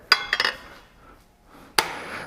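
A wood lathe tool rest is repositioned, producing sharp metallic knocks: a quick cluster of clanks near the start, a quiet gap, then one more solid clank, with no talking.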